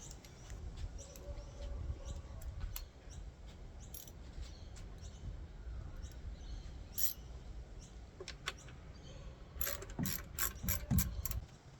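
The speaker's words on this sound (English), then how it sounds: "So now I've got to take the carburetor off again." Removing the carburetor from a Yamaha 25 outboard motor produces faint clicks, ratcheting and small metallic tool sounds, scattered and intermittent over a quiet background, with no voices.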